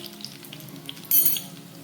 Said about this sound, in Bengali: এইভাবে নেড়ে চেড়ে ভালো করে ভেজে নিতে হবে।